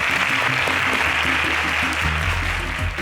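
A studio audience applauds contestants on an agricultural science quiz show, a steady wash of clapping lasting a few seconds with a low musical tone running underneath.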